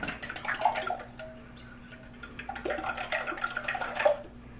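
A spoon stirs an egg and cream casserole mixture with ground mustard in a bowl, giving close, soft clinks and wet swishing in two short bursts with a quiet pause between.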